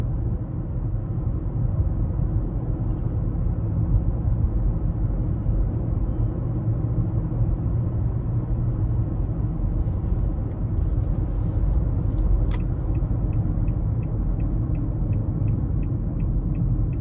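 Cabin road noise in a 2020 Nissan Altima 2.5 SL on the move: a steady, low, even rumble fills the whole stretch, with a few faint ticking clicks partway through and no talking.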